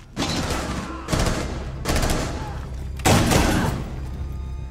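Rapid bursts of gunfire in Rainbow Six, four loud volleys in quick succession with sharp onsets and dense crackling tails, close and dominant over a faint game background.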